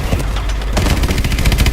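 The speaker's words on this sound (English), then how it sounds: "Lots of fire, gunfire." Loud, rapid bursts of gunfire in Call of Duty: Advanced Warfare crackle continuously, dense and close, with rhythmic automatic shots dominating the whole stretch.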